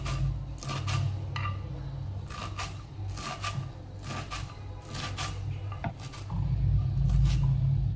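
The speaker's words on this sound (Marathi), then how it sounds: "कोथिंबीर बारीक चिरून घ्यायचं आहे व्यवस्थित।" A knife chops fresh coriander finely on a board in a home kitchen, a series of quick, crisp cutting strikes in short bursts, close and fairly clear.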